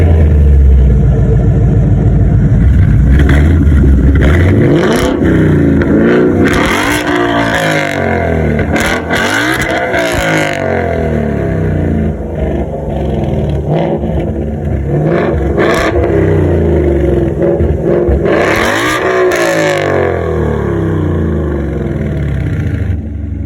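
Ford Mustang GT engine revving hard and accelerating, loud and close, with rising and falling pitch sweeps over a steady throaty rumble and no talking.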